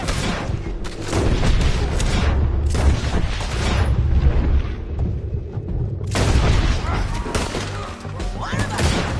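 Gunfire and booming blasts crash repeatedly in a Red Dead Redemption 2 shootout, loud and dense in bursts with short lulls between volleys, while voices shout over the fight.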